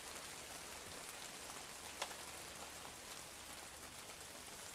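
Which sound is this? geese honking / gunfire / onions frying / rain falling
rain falling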